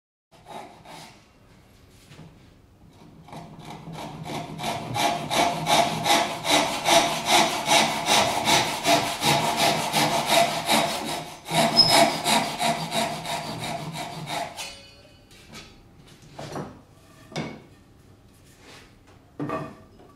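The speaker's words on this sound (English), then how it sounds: "The saw runs almost by itself in the pre-made slit." A Japanese hand saw cuts wood for a double dovetail joint, running in a pre-cut slit. Rapid, even rasping strokes build and hold, then give way to a few separate scrapes and knocks. Close by, with no voices.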